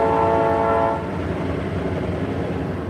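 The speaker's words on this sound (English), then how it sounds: "there's a train right behind" A train passes close by, its horn blaring loudly for about a second before giving way to a steady rumble and clatter of rail cars.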